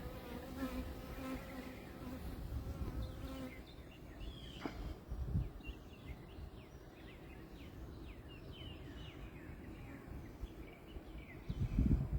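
Honeybees buzzing steadily around an open hive during a hive checkup, a dense, continuous drone close by with individual bees flitting past, and a few light knocks and handling sounds.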